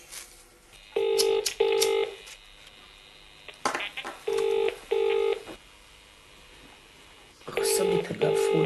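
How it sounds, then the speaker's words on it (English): An office telephone rings in paired electronic trills, three double bursts spaced a few seconds apart, fairly close, with faint background noise between rings in a 1994 drama. "somebody pick that phone up"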